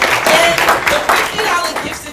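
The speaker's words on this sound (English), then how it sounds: "Clap it up for her." An audience claps for a high school student: a short, loud burst of applause with uneven clapping, with a voice speaking over it.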